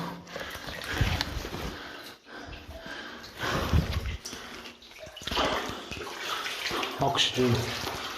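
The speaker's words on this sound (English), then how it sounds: "this is walking back through the flooded level" Wading steps through water in a flooded level of a disused West Cumbrian hematite mine, with sloshing and splashing surges at a steady walking rhythm, close and fairly loud, plus some breathing and movement.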